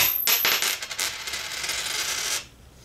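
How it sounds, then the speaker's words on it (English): A 1982 copper penny is slammed onto a hard surface, giving a sharp impact followed by a clear metallic ting that rings for about two seconds before dying away, heard alone. "you just slam it against a hard surface. So if you notice, that had a ting sound"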